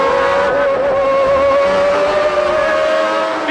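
A 1992 Monaco Grand Prix Formula 1 race between McLaren and Williams cars: a loud, sustained high-pitched engine whine holds steady pitch throughout, with slight pitch wobble and no speech.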